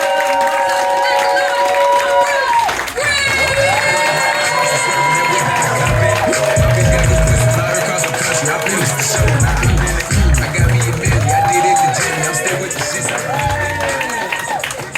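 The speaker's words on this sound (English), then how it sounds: "So I need y'all to start clapping from this side to this side." Comedy club audience at the Comedy Loft cheering and clapping loudly with shouts and whoops, a dense sustained crowd roar filling the room.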